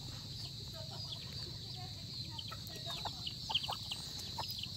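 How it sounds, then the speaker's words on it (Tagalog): Chicks and ducks around a fish pond give faint, scattered little peeps and clucks over a steady outdoor hum, rising briefly midway through the moment. "Daming sisiw. Saka mga bibi. Duck."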